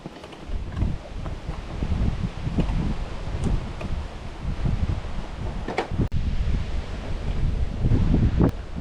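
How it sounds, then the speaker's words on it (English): Strong wind gusts across a lake during fall panfishing, a constant loud roar with heavy buffeting on the microphone and water lapping beneath, no voices. "Boy, that wind is brutal."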